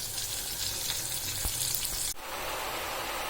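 Bottle gourd and ilinchi greens fry in hot oil with a steady broadband sizzle, which drops suddenly and then resumes a little softer as the washed greens go into the pan.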